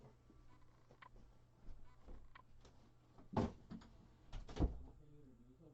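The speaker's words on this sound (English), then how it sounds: "I need to close this door." A door being closed indoors during a core spinning session, with a couple of faint knocks and a louder thud and clunk as it shuts, then quiet room noise.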